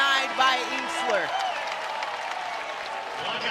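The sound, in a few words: basketball arena crowd applauding after a defensive block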